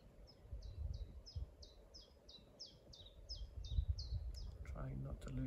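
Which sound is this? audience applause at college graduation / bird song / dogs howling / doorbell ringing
bird song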